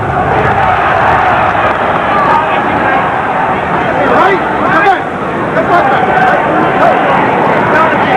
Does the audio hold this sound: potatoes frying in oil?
no